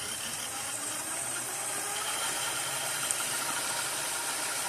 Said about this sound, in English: Let's do some fast forwarding.